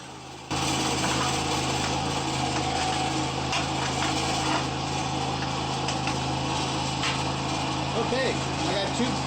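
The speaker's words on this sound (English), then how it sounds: "So I'm just going to do the drilling here." A Shopsmith drill press bores out square pen blanks clamped in a jig, giving a steady, loud motor whine with cutting noise that runs continuously after a brief quiet start.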